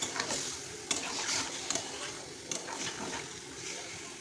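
Marinated lote fish fries in hot oil with butter, a dense steady sizzle and bubbling throughout, with occasional scrapes and clicks as the pieces are stirred.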